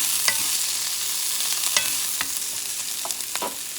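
Stuffed trout fillets frying in butter in a cast-iron pan, a loud close steady sizzle with occasional spatters and scrapes, with no talking.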